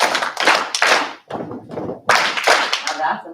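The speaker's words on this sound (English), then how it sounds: "clap 3 times, stomp twice, clap twice." Rhythmic bursts of group clapping and stomping at a school board meeting, in short patterned sets separated by brief pauses, loud and close.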